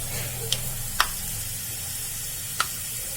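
Fenugreek and coriander seeds sizzling in hot oil over a very low flame, a steady close crackle broken by three sharp pops, with no one speaking.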